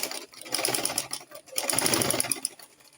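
A sewing machine stitches skin illusion net onto a dress in quick, rattling bursts, two short runs separated by a brief pause, close and fairly quiet with no talking.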